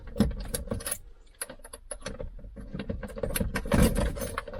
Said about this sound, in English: I have 3 keys.